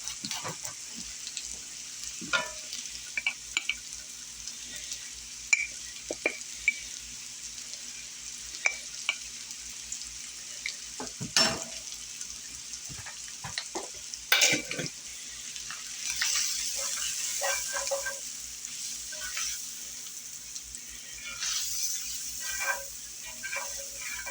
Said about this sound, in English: Just going to whisk that in and give that a minute.